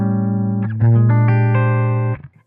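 Electric guitar on its high-output bridge pickup, played through a Victory MK Overdrive amp, rings out loud sustained overdriven chords that shift several times before cutting off, with no talking.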